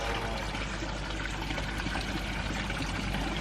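A garden pond water feature pours water steadily into the pond, a constant close splashing flow with no break and no voices.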